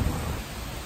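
Deep, steady rolling thunder rumbles continuously under a gray sky with no lightning, a brief low roar mixed with a soft wash like rain.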